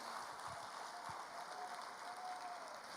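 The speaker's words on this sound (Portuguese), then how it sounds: "Celebra o Senhor com as tuas palmas." Church congregation clapping hands in worship, a dense, steady wash of applause throughout, fairly distant and even, with a faint tone sustained beneath.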